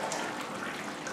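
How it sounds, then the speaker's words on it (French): Pear purée mixed with gelatin is poured gradually into cream for a pear and speculoos bavarois, giving a soft, continuous liquid rush at close range with no voices. "je vais verser les poires, la purée de poire avec la gélatine petit à petit à l'intérieur"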